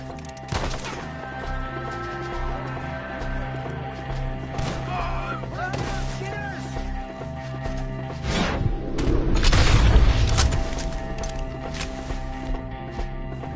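Gunfire in Red Dead Redemption during a shootout among trees: scattered shots and booms over game music and chatter, with a heavier thumping burst near the end.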